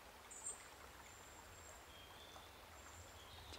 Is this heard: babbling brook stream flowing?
yes